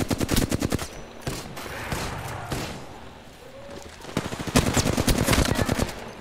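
Rapid automatic gunfire in Apex Legends crackles in dense bursts at the start and again toward the end, with a lull between, loud and close in a third-person match.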